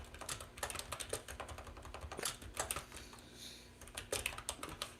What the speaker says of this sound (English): I bought this keyboard and this clicker because I wanted it to make noise